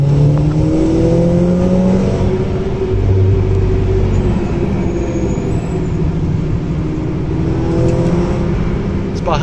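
A Volkswagen Scirocco accelerating hard around the Nürburgring, heard from inside as a loud, continuous engine roar with rising and falling revs as it climbs through the gears.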